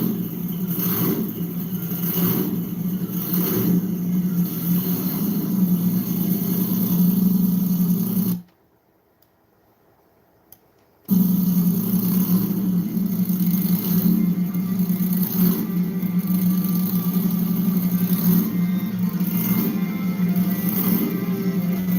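Supercharger blower surge on the BarelyCuda car's engine, a steady loud mechanical drone with pulsing surges that cuts out briefly partway through, then returns at the same level.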